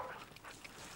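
Sled dog barking outdoors in winter cold, a brief, faint yip or bark heard at a distance over steady background noise.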